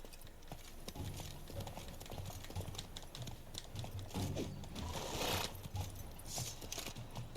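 Horse hooves clip-clop at a gallop in the video game The Witcher 3: Blood and Wine, a quick repeating thud pattern with faint game ambience, fairly quiet throughout.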